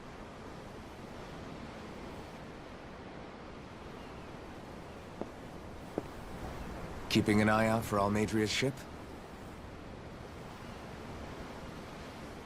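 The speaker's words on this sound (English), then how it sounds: "I'm looking at the ocean." Steady ocean waves and surf wash while at sea aboard a ship in Tales of Arise, a continuous soft roar with a voice speaking briefly in the middle.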